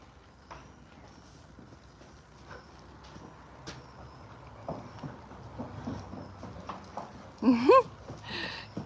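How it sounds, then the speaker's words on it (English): A horse running on a ranch, a scattered series of hoof thuds and clip-clops growing nearer amid wind noise, ending with a short whinny-like call and a voice close by. "I hear the horse running."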